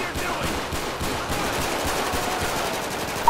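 Sustained rapid gunfire in GTA 5 with the LSPDFR police mod, a fast even rattle of shots that holds at steady loudness throughout, heard as a continuous distant-sounding burst.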